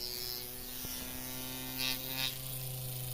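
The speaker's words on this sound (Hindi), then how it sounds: "Series bound motor AC supply से चल जा रहा है।" A small series-wound motor, the type used in drills and grinders, runs on AC supply after bench wiring. It gives a quiet, steady electric buzz and hum, with a sharp click early on and a couple of brief hissy surges later.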